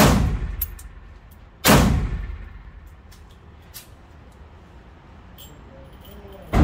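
A Ruger 57 pistol fires two loud, close gunshots several seconds apart, each a sharp blast with a decaying echo, and a third shot begins right at the end over a quiet outdoor background.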